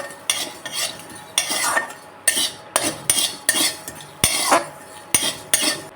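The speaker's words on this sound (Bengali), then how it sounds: "তো চলো এটাকে শুকনো কড়াইয়ে ভালো করে ভেজে নিই।" Fennel seeds and dried chillies are dry-roasted in a dry wok for amla pickle, with a spatula scraping through them in about a dozen loud, rhythmic strokes and quiet pauses between.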